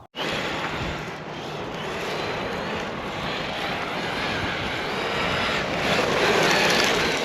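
A Traxxas Sledge RC truck runs around a dirt track, its electric motor giving a loud, continuous high-pitched whine and rushing tyre noise that holds steady and swells slightly toward the end, close to the listener.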